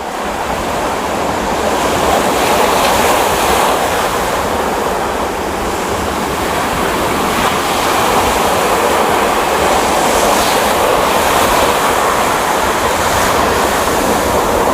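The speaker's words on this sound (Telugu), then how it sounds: "వెంట వెంట వచ్చేస్తున్నాయి కదా కెరటాలు" Ocean waves break continuously on Sankaraguptam beach on a full moon day, a loud, steady roar of surf with rolling swells and wind noise, without any voices.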